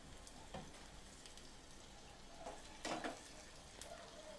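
Onions sizzle in hot coconut oil for tempering fish curry, a soft, steady frying crackle with a few louder spits and stirring scrapes near the end, fairly quiet overall.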